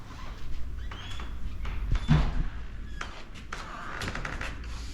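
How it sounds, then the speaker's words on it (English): A car door on a facelifted EG hatchback is shut in a garage, a single dull thud midway through amid faint background noise, with no clear talking. "Can you shut the door?"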